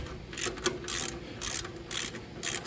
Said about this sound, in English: This extendable ratchet, which is actually my favorite ratchet, Harbor Freight Tools.